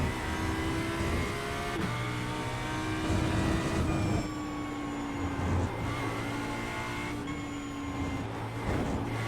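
Audi GT3 race car engine on track at Mugello, a loud, sustained roar with rising and falling revs through gear changes, close and alone.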